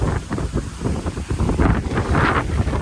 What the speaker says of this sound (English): The wind is honestly the worst part about everything.